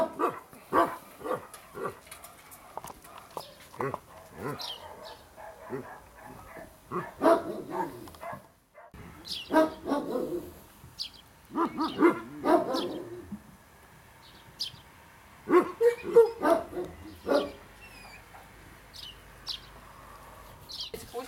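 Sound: dogs barking

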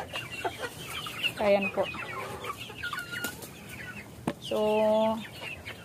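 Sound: backyard chickens and chicks clucking

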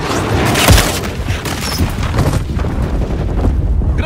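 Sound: grenade explosion in Modern Warfare 3 video game

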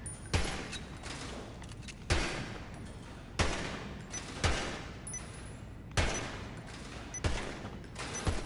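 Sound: gunfire at shooting range in video game GTA 5

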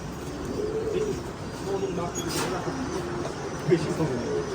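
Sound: Mondian pigeons cooing in a pigeon farm

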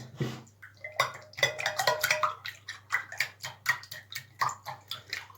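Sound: whisking three eggs in a bowl

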